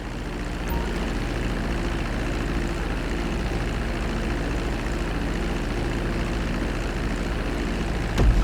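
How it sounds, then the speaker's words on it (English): A plane taxiing on a runway in Grand Theft Auto V, a steady propeller engine drone and hum held at an even level throughout, with a brief thump at the end. "Now let's get the plane off the runway. Taxi over to the marked area and come to a complete stop."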